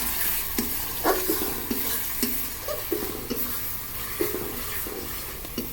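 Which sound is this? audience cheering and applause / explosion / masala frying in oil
masala frying in oil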